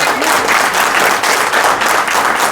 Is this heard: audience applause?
yes